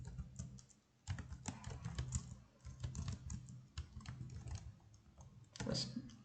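Fingers tap a computer keyboard while C string code is entered, a quick irregular run of soft close clicks with short pauses between bursts and no voices.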